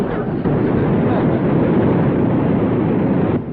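A truck engine in a 1962 sitcom scene roars loud and continuous as its wheels spin in mud, a dense steady rush that cuts off abruptly at the end.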